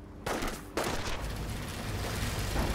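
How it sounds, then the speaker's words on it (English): Small arms fire in the World War II strategy game Company of Heroes, with sharp bursts and a sustained roar of battle noise blending into loud, continuous combat din. "Squad is taking small arm fire!"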